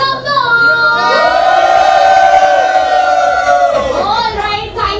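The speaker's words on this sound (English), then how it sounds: "Come on, everybody, a big cheer to One in Cup 2024." Crowd at the MONIN Cup India 2024 event in Kolkata letting out a loud sustained cheer and whoop, swelling for a few seconds then tapering, with a voice riding over it.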